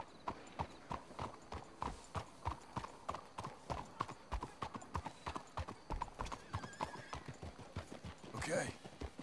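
Steady horse hooves clip-clopping at a brisk walking rhythm in Red Dead Redemption 2, close and fairly loud, with a horse whinnying briefly near the end.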